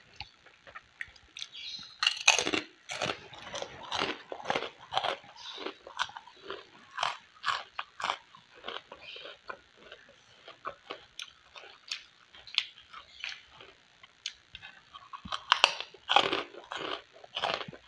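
Repeated loud, close crunching and chewing of spicy seasoned krupuk crackers, irregular bites throughout with brief pauses, no talk.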